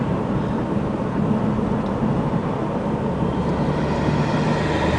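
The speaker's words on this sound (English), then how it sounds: "As you can hear, that BSR Optiflow intake is just sucking in a lot of air." A 2005 Saab 9-3 2.0T with a BSR Optiflow intake pulls on the road, a steady, loud rushing drone of turbo boost and intake air from inside the car.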